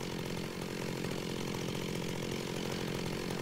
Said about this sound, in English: And we got ourselves a chainsaw! So now we can cut down trees with just energy. And it makes a nice sound.